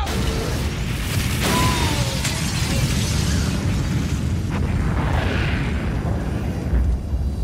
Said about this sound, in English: I heard the sound of an explosion just before it cut off.